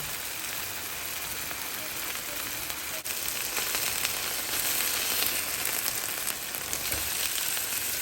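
Chicken pieces for sticky soy chicken fry in a pan with a steady, dense sizzle that holds unbroken and fairly loud throughout, with no voices over it.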